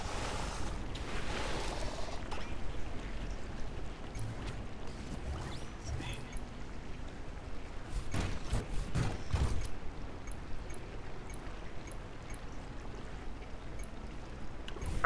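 Water spraying onto slime in the farming game Lightyear Frontier, a steady hissing, splashing gush that runs continuously with mechanical game sounds and no talk.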